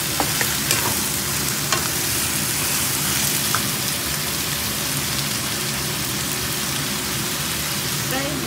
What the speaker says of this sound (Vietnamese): Bây giờ xào cho nó săn